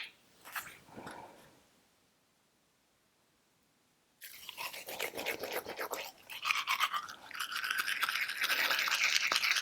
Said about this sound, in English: I'm just going to put some of that on my toothbrush